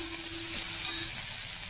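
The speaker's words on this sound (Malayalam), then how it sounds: "ഇതൊന്ന് വഴറ്റണം" Sliced onion sautéing in a hot pan for a chutney, a steady close sizzle with a faint low hum running under it and no voices.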